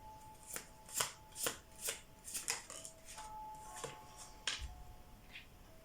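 Tarot cards being shuffled in quick riffling bursts, about a dozen crisp flutters in an uneven rhythm, close by and fairly quiet.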